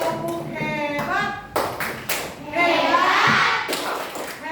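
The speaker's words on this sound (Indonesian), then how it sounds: "Tepuk tangan buat Arif. Kita bilang tepuk hebat." Children in an Indonesian classroom clap a rhythmic 'tepuk hebat' cheer for a classmate named Arif, sharp hand taps in short patterned bursts mixed with young voices chanting and talking close by.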